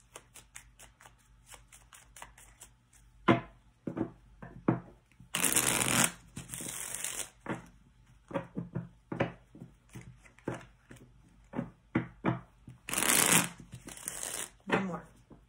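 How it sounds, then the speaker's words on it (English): A deck of tarot cards being shuffled near the microphone, with repeated riffling bursts and soft slaps and hand rustles in an irregular rhythm, two bursts noticeably louder and longer than the rest. "I always like to shuffle on camera."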